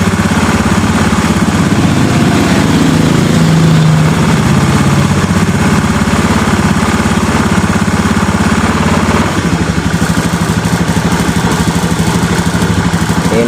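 A Honda Vario 110 fuel-injected scooter with electrical trouble runs loud and close, its steady mid-pitched engine drone lifting slightly as the throttle is opened a little.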